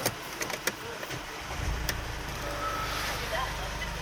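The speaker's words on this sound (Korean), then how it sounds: "자, 지금 시동을 걸었거든요." A Mercedes-Benz GLC220d 4MATIC diesel starts up nearby. A few faint clicks come first, then the engine catches and settles into a steady, even idle.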